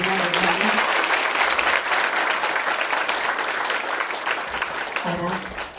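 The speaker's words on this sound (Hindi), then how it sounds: "अपने लिए भी जोरदार तालियां बजाएं।" Loud, sustained applause from a large gathering at a spiritual class in Gurgaon, dense clapping filling the room, with a voice briefly audible at the start and again near the end.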